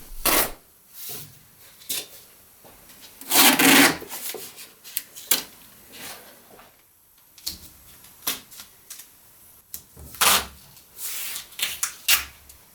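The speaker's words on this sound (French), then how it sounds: "on ponce pour égaliser la surface et ensuite on lustre" Paint on a Maserati 4.24V under restoration is sanded to level orange peel, producing intermittent quiet rasping, rubbing strokes in short bursts separated by near silence, with one longer, louder scrubbing pass.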